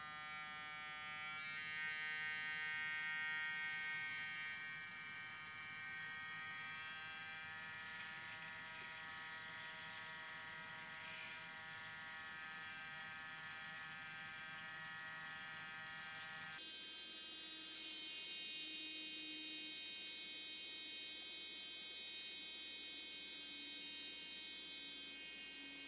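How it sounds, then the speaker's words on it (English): Electric hair clipper motor buzzing steadily with its blade dipped in cleaning solution, a close continuous hum whose tone shifts partway through, with no talk. "tilt the clipper upside down. Be careful not to submerge past the blade. You only want the blade to go in the solution. And how it works is the vibration of the motor pulls the hair."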